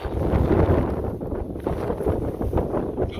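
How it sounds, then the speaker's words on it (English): Strong gusting wind on an exposed mountain summit, buffeting the microphone with a loud, steady roar that surges and dips across the clip, with no voices. "not let the wind blow me over"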